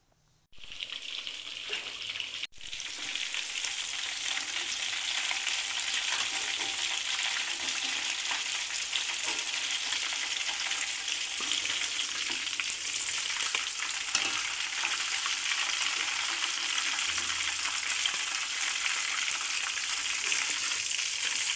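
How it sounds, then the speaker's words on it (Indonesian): Ground rica-rica spice paste hits hot oil in a pan and sizzles steadily for about twenty seconds, loud and close after a brief start, with no talking. "Setelah bumbu halus, panaskan minyak untuk menumis bumbu rica-rica tersebut."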